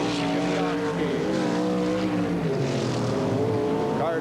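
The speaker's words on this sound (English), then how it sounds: "Cars coming out of turn number 4." Race cars roar out of turn four during a 10-lap heat at Ascot in 1984, engines snarling loudly with rising and falling pitch as several pass close together, under a commentator's talk.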